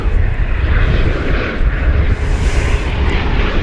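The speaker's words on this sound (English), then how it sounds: "Singapore Airlines cargo on its way to Brussels." Singapore Airlines cargo plane at DFW Airport roaring loudly and steadily for the whole stretch, a broad continuous engine rumble with a faint rising whine partway through, no talk.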